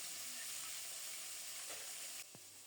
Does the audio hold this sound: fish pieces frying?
yes